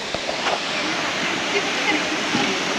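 Courtallam main waterfall roars as a dense, steady broadband wash of falling water, close and continuous, with a few faint scattered voices of people nearby in the background.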